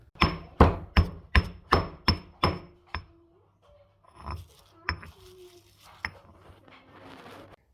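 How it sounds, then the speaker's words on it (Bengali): Shrimp pounded in a stone mortar for a spicy Bengali chili mash: a steady run of about eight loud, close thuds, then scattered softer knocks and scraping as the pounding slows. "প্রথমে আমি চিংড়ি মাছগুলোকে বেটে নিয়েছি"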